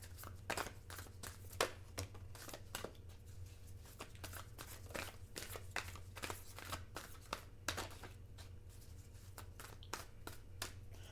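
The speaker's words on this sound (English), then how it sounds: "One more shuffle." Cards are shuffled up close in quick riffling bursts and soft taps, recurring irregularly over a low steady hum, with no talking.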